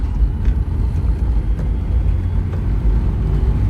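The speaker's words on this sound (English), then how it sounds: "Let's go across these railroad tracks." A Honda S2000 fitted with Ohlins coilovers and new bushings drives across railroad tracks, giving a loud, steady low rumble of road and cabin noise with a few faint thumps as the wheels cross the rails.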